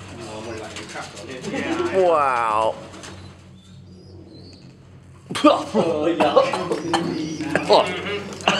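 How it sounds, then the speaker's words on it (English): Pigeons coo inside an abandoned nuclear missile silo, their calls echoing close by while people talk over and between them. "There's a lot of pigeons in there."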